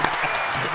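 A short burst of a canned applause sound effect played in a podcast studio, a brief wash of clapping at moderate volume that is cut off quickly.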